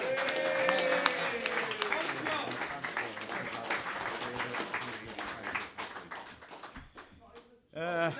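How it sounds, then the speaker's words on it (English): A group claps at a recovery celebration, with scattered, uneven hand claps mixed with chatter and voices throughout, thinning out near the end before a brief louder burst. "Everyone give him a clap."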